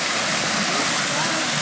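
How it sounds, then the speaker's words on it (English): Loud, steady roar of a waterfall in New Plymouth, New Zealand, water rushing and crashing continuously without a break. "The waterfall right here."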